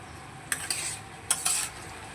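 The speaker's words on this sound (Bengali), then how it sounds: "এবারও ভালো করে একটু নেড়ে চেড়ে নেব। আবারও একটু নেড়ে চেড়ে দেবো।" A spoon scrapes and clinks against a pan while vegetable curry with drumsticks is stirred, four short distinct strokes over a faint background hiss.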